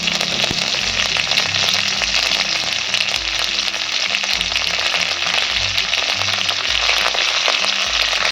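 Urad dal and curry leaves sizzle and crackle steadily in hot oil in a pan, a dense, continuous frying hiss with faint stirring scrapes, loud and close with no talking.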